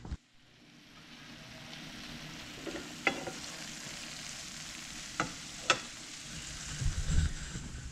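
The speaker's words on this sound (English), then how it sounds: "now I put them in a frying pan with a little bit of oil." Boiled poke salad greens sizzle in a frying pan with a little oil, a steady frying hiss broken by a few sharp pops and a stirring clatter near the end, heard close with no talking.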